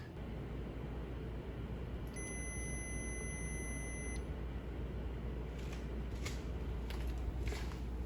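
A Wolf speed oven timer gives a steady electronic beep lasting about two seconds over a constant low kitchen hum, followed by a few faint clicks, with no talking.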